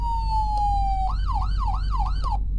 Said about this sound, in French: la sirène me pète les oreilles